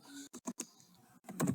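Text is typed on a computer keyboard in a short, close burst of quick key clicks separated by brief pauses, ending in a denser flurry of keystrokes.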